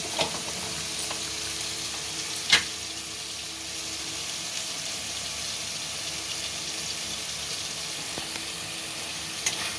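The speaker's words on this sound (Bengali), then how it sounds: "এবার খুব ভালোভাবে নাড়িয়ে নেব, তেল ছাড়া পর্যন্ত ঢেকে রাখবো।" Pointed gourd curry with turmeric and salt frying in a pan, a steady low sizzling hiss running throughout, broken by a couple of brief utensil knocks, close but fairly quiet and without speech.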